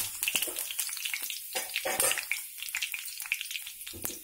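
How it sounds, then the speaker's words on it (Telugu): Curry leaves dropped into hot oil in a pan crackle and sizzle up close, with bursts of popping and spitting over a soft hissing bed, no talking. "కరివేపాకు వేయండి, ఆయిల్ మరిగింది కదా"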